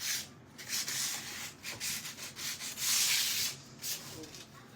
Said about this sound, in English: I just don't want to sand it too much